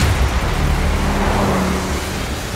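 A car driving through an enclosed road tunnel gives a steady, loud, low rumble of engine and road noise with a slight hum. No one speaks.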